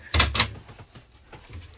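A big cabinet door on a converted bus swings open over the water tank compartment below, giving two quick close knocks and a short rattle, then quiet handling noises.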